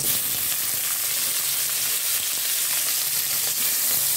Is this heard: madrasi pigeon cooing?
no